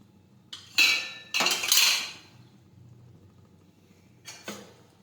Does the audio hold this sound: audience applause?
no